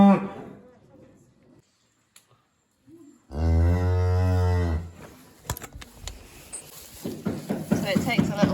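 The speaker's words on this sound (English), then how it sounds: "we bring in the other 10 cows" On a farm, a cow lets out one loud, drawn-out moo after a quiet stretch, followed by people talking over clattering and shuffling.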